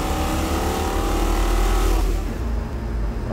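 A Mondello-built 455 Oldsmobile big block runs hard on a dyno, a loud, steady, rumbling roar. It eases slightly in intensity near the end.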